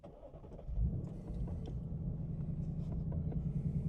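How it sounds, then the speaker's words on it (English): A 2024 Ford Mustang GT with a six-speed manual starting at night, the engine firing with a loud burst, then settling into a steady, deep idle rumble heard close and alone. "Very loud startup at nighttime"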